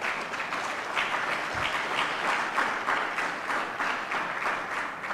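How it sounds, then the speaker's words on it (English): Audience applause breaks out at a government briefing on nation building and crisis response, a steady dense clatter of many hands held at an even level throughout, with no voices over it. "thank you for a clap on that."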